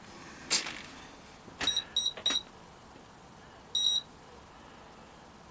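A Turnigy Plush 32 series ESC with its programming card plugged in gives several short high electronic beeps, a quick triplet and then a single beep, faint over a quiet room.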